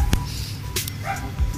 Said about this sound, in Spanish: Hay perro, además.